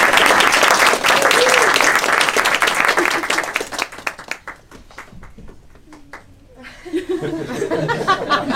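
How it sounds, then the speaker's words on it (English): Wedding guests at Long Reef applauding and cheering, a dense burst of clapping with laughter that fades into scattered claps and chatter, then swells again. "Should we give them another cheer and a welcome to just make them feel better?"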